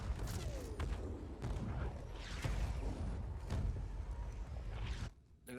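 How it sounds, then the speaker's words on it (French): Artillery towers firing in the video game Just Cause 4, a dense run of booming shots and blasts layered over a loud, continuous battle din that drops away abruptly at the end. "Activez les défenses IAPA et engagez toutes les tours d'artillerie."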